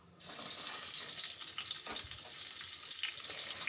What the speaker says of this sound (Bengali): এবার ওই কড়াতেই কিন্তু মাছটা ভেজে নেব।